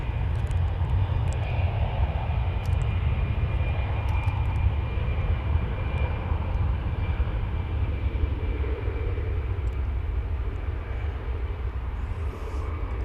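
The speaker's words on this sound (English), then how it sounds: "Another American flight, American Airbus A319 is off to Jackson," Loud, steady roar of an American Airlines Airbus A319 jet at Dallas/Fort Worth airport, a broad engine rumble holding level throughout without pause, with no voices.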